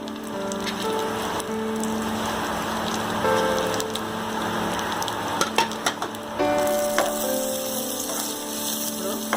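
Cashews and charoli sizzle steadily in hot ghee with a dense, even crackle throughout and a few brief sharper pops, close and continuous.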